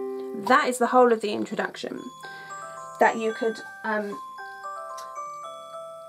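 A phone alarm plays a soft electronic melody of steady, stepping tones, starting faintly and continuing beneath a person speaking during a piano lesson.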